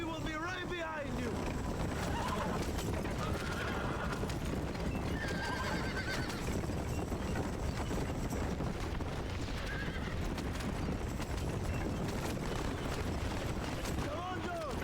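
Several horses neigh and whinny in Red Dead Redemption amid steady clip-clopping hooves and dense rumbling game noise, with whinnies at the start and end. Voices talk over parts of it.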